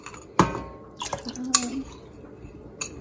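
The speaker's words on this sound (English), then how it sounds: "We're gonna add 6 tablespoons of lemon." Lemon juice measured by tablespoon for homemade playdough, with sharp clinks of a spoon against a bowl, a few drips and a brief trickle amid quiet kitchen handling.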